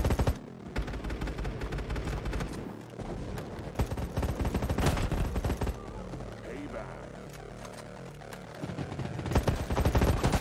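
Rapid assault-rifle gunfire in the mobile shooter Battle Prime, with clustered bursts of sharp shots and clatter running through the whole stretch and a loud volley near the end.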